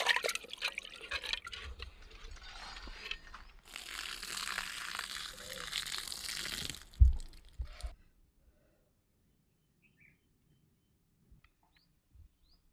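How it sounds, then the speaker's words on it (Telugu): Raw chicken is washed in water in a pot outdoors, with splashing and sloshing close by for several seconds, then a clunk before near silence with faint distant sounds. "దీన్ని అయితే మంచిగా కడుక్కోవాలి చికెన్ని."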